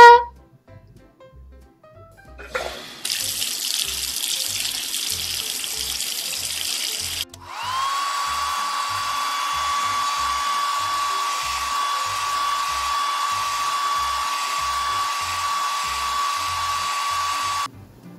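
A hair dryer whirs steadily for about ten seconds after a brief burst of running water, a loud, even blowing hum with no talking.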